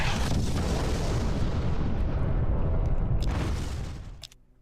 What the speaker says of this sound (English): so we're going to bombard it